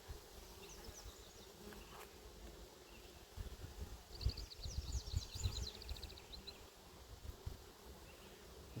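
Honeybees at a garden hive give off a low, steady hum that rises into a busier buzz midway through, with fine wing whines drifting above it. The colony sounds close and continuous, with nobody talking.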